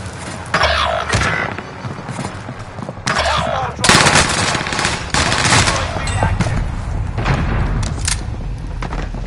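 Dense, loud gunfire from a Call of Duty match: sustained automatic bursts and heavy shots overlap almost nonstop, with a few brief pauses and deep thumps underneath.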